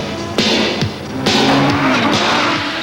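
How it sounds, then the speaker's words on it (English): A 500 bhp Audi Quattro at full song, its engine howling loud and close, surging through several quick gear changes with brief breaks in the revs between rising pulls. "This is an Audi Quattro at full song."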